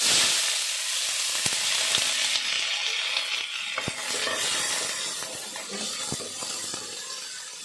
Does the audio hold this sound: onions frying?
yes